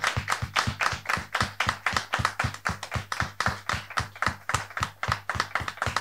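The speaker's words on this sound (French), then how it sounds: "On peut le recevoir avec des applaudissements plus nombreux" A studio audience claps in a steady, rhythmic unison beat to welcome a guest, crisp repeated claps about three per second continuing for several seconds, close and fairly loud, with no talking.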